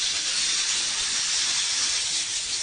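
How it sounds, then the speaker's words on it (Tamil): Masala-coated fish frying in hot oil on a stove, giving a steady, close, even sizzling hiss that holds without a break throughout. "மசாலா தடவி வச்ச மீனை பொரிக்கிட்டு அடுப்பில் வைக்கணும்."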